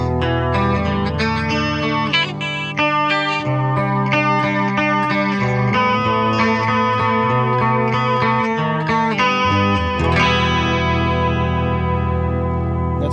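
A Gibson 80s Explorer electric guitar plays a clean 12-string tone through a Boss GT1000, with shimmering, chorused chords and picked notes ringing steadily and up close, with no voices.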